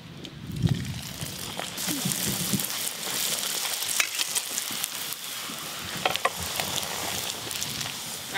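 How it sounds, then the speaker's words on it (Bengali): Bhature fry in hot oil, a loud continuous bubbling sizzle with intermittent spatters and crackles, close up and without speech. "এবার ভাটুরেগুলো ভাজার পালা।"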